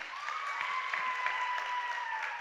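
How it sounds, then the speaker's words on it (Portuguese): An audience at a running event claps for a young runner named Elian: a short burst of steady, evenly textured applause with a thin sustained tone riding over it and no talking. "Uma salva de palmas para Elian."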